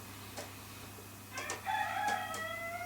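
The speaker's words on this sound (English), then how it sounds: "I don't know if you can hear the rooster in the background." A rooster crows in the distance, a drawn-out cock-a-doodle-doo rising over a quiet, low humming background.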